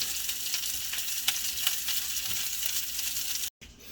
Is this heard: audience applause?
no